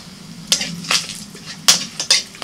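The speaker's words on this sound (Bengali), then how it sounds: "কড়াইতে সরষের তেল দিয়ে ওর মধ্যে ফোড়নে তেজপাতা, শুকনো লঙ্কা, এলাচ, দারচিনি, লবঙ্গ" Bay leaf, dried red chilli, cardamom, cinnamon and cloves hit hot mustard oil in a wok, giving a few sharp, close sizzling crackles and spits in quick irregular bursts over a low hum.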